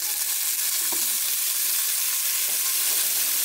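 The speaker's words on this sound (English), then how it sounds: "here comes our butter and pancetta" Butter and pancetta sizzle in a pot for clam chowder, a dense, even hiss with a soft bubbling crackle held close and steady, with no talking.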